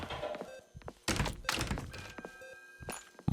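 A door swings open in a horror video game, a single heavy thunk followed by a couple of softer thuds, close and clear with no talking.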